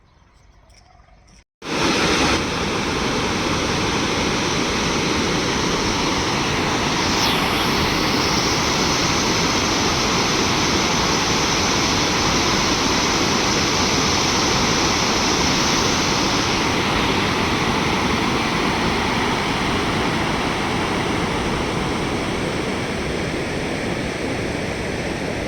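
The Kortikal Waterfalls in Telangana roar with loud, steady, broadband rushing water that starts abruptly and keeps going without a break, and no voices are heard.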